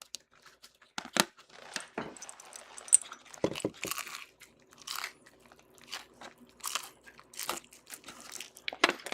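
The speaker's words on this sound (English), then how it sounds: "I don't know if you guys can hear the crunch" Crisp, repeated crunching of bites into pizza close to the mic, with sharp crackles and chewing in an irregular rhythm and no talking.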